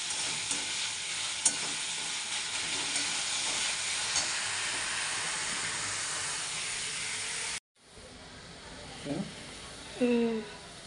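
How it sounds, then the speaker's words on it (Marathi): Tomatoes and onion roast in a pan for egg bhurji, a loud continuous sizzle and hiss with faint stirring, then a sudden cut to quieter kitchen sound with brief clatter and a short voice. "आता टमाटर पण थोडंसं भाजून शिजवून घ्यायचं आहे कांदा टमाटर एक जेव करायचं"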